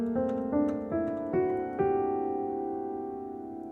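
A melodic minor scale played ascending, with about five clearly struck notes in an even rising sequence and the last note left to ring and fade, heard alone.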